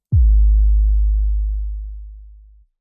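A synthesized sub drop made in Ableton: a single deep, clean sine-like bass tone hits abruptly, then slowly falls in pitch and fades over about two and a half seconds.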